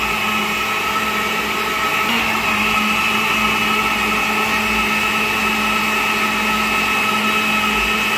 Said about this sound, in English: I'm gonna switch my blender off